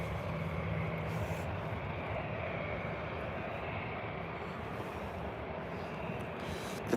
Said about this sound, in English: they are actually de-icing an aircraft, as you can see